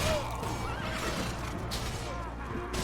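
A horse whinnies in the Mount and Blade: Prophecy of Pendor game, a rising call near the start over busy, steady game noise, with faint hoofbeats and a voice talking along.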